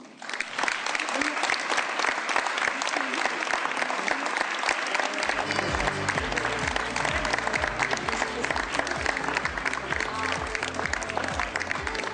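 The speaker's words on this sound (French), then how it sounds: "Le Conseil municipal des jeunes qu'on applaudit." A crowd at a New Year's wishes ceremony applauds the youth municipal council, with steady, dense clapping throughout and music with a pulsing bass joining partway through.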